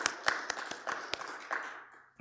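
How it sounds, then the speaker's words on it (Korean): A church congregation claps for one another during a Sunday worship service, a brief scattering of distinct claps at a loose, uneven rhythm, moderately faint, trailing off after about two seconds. "우리 서로를 위해서 우리 박수 한번 할까요"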